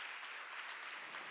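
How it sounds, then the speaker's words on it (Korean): A church congregation clapping during a Korean worship service, a brief, steady wash of many hands applauding together, even and fairly distant. "박수로 하나님께 영광을 드리고"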